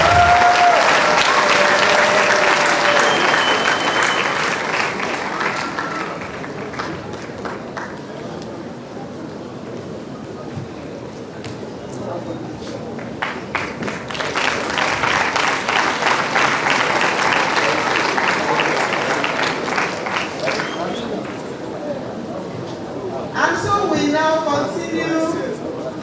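Applause at a university matriculation ceremony for fresh students, sustained clapping from a large audience in a hall that dips briefly mid-way and then builds again, with faint chatter and room noise beneath.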